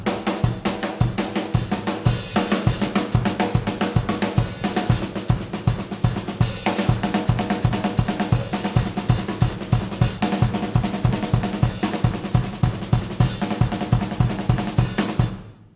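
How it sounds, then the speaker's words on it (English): Full drum kit playing a driving pattern with five extra accents on the hi-hat, then turned around to lead with the other hand, loud and dense with steady pounding kick and snare hits and bright cymbal wash throughout. "It's just a pattern. It's 5 extra accents on the hi-hat, and you turn it around."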